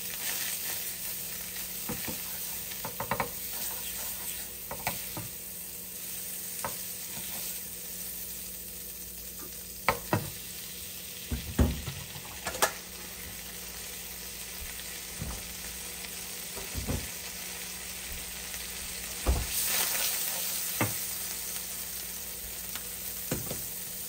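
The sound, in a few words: asparagus frying in butter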